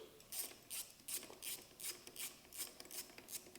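A ratchet tool loosens the clutch pressure plate bolts on a BMW S 1000 RR motorcycle, making quiet rhythmic clicking bursts at an even pace, close by, with no talk.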